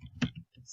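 A single sharp click of a computer mouse, close and brief, against a quiet low hum while building a table for a web page.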